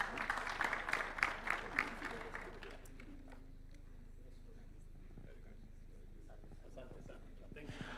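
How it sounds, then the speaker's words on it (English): Audience at State House applauding in a short burst of clapping that fades after a few seconds, followed by quiet room tone with faint murmurs. "Give them a round of applause"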